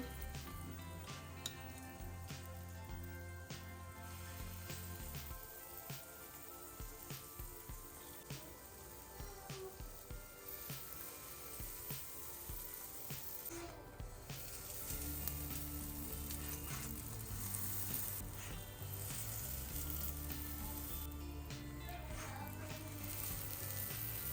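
Spoonfuls of pancake batter sizzling and crackling in hot oil in a frying pan, a steady frying hiss that grows fuller partway through, with no talking.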